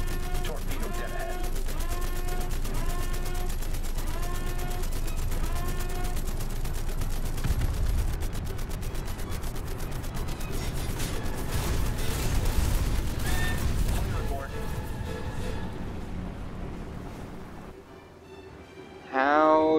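Rapid bursts of gunfire and cannon shots from a War Thunder battle, dense and loud throughout, with a voice and other game sounds mixed in before the firing thins out near the end.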